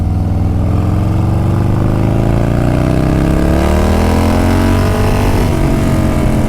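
A 2021 Harley-Davidson Street Bob motorcycle engine pulls hard in second gear, a loud, close, continuous rumble with the pitch rising steadily as it accelerates, heard from the rider's position with no talking.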